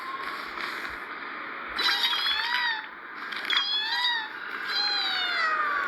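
A cat meows repeatedly in Penacony, the dream-hotel setting of a video game, several rising and falling cries in short bursts over a soft ambient music bed, with no one speaking.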